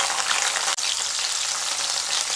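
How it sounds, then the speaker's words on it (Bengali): Small cut pieces of bitter gourd fry in hot oil with a steady, dense sizzle, close and continuous, broken only by one brief dip partway through. "এবার সেই একই তেলে 3টি ছোট সাইজের কেটে রাখা উচ্ছে ভেজে নেব"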